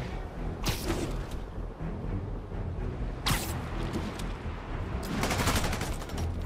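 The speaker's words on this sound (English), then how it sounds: "we have reports of gunfire coming from multiple vehicles" Rapid bursts of automatic gunfire from multiple vehicles in the video game Marvel's Spider-Man Remastered, with dense volleys at the start, middle and end over a constant noisy action backdrop.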